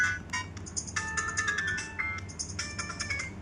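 Polyphonic melodic ringtone from an itel 5027 slim feature phone, with bright electronic notes in short repeating phrases that play clearly and continuously with no talk.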